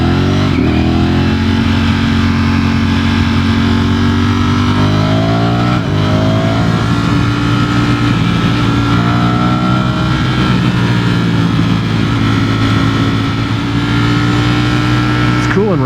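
A Ducati Streetfighter V4S motorcycle ridden in race mode, its engine droning loud and close with a steady mid-range tone and gear-shift pitch changes, while a rider talks over it throughout.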